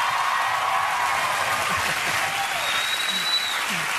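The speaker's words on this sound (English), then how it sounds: "This is the most they have applauded for any of our guests ever." Talk show studio audience applauding a guest, a loud, sustained wash of clapping and cheering filling the whole stretch with a few whoops rising above it.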